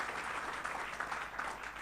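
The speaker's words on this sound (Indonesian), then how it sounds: "Tepuk tangannya yang lebih meriah buat Tuhan Yesus" A church congregation at a Sunday worship service claps in sustained, dense applause, a steady wash of many hands without individual voices standing out.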